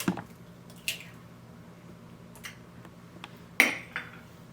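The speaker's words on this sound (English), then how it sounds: "I'm gonna crack an egg" An egg cracked against a bowl and dropped into flour, baking powder, salt and vegetable oil gives a few sharp, close taps and a soft wet squish, with small bowl clinks between them.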